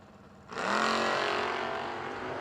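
Drag racing launch with a little blue Vega against a Mustang at a fall event, a sudden loud engine roar that swells and holds with a rising rev, heard at a distance across the strip.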